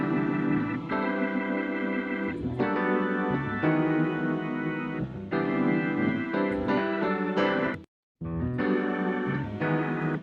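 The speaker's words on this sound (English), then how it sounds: "So the choir I used is an Omnisphere. And I reached for a choir because it creates depth." Omnisphere choir pad layered over Rhodes electric piano and acoustic piano in a gospel-style Logic Pro production, sustained chords playing continuously at steady volume with a brief dropout near the end.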